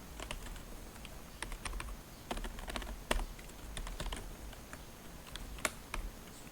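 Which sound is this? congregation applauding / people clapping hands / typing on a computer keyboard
typing on a computer keyboard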